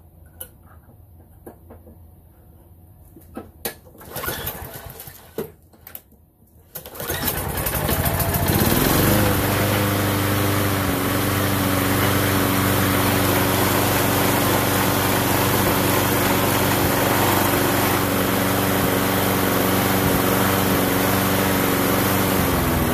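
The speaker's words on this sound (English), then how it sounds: "we got the mower running again." A lawn mower engine starts after a few scattered knocks and handling noises, then runs loud and steady close by, a continuous rough drone holding for the rest of the stretch with no talk.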